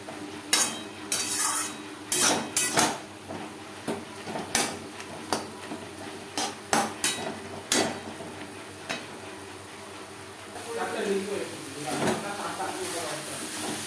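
Red amaranth greens get stirred and dried in a pan over high-to-medium flame, sharp clattering spatula scrapes and knocks recurring against a faint hiss, with a brief low voice near the end.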